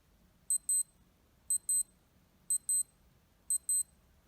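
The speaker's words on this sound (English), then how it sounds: "And you can hear your alarm." A Casio G-Shock GSG-100 digital watch alarm sounds in four evenly spaced bursts of high double beeps, one per second, clear against a quiet background.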